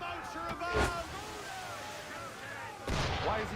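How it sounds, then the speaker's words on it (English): Two heavy booms of enemy cannon fire at a sailing ship in the Assassin's Creed 3 video game, a few seconds apart, set against a steady background of sea ambience and scattered voices. "Shooting at us."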